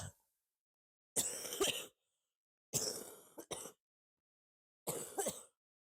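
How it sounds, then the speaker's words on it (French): A person coughs in three separate bursts, harsh and close, with some rough throat-clearing between, in an otherwise quiet room. "Ah vraiment, j'arrête pas de tousser"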